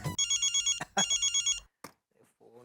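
A telephone rings in a home in the Indian TV sitcom Taarak Mehta Ka Ooltah Chashmah: two loud, close electronic ring bursts with a short gap between them, then brief quiet and faint sounds afterward.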